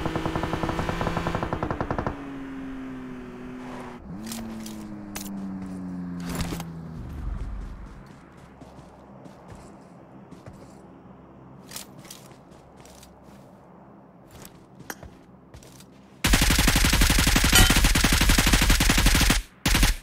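Default gun firing in the mobile shooter PUBG Mobile, with loud sustained shots early, scattered single cracks and engine-like drones, then a dense continuous burst near the end.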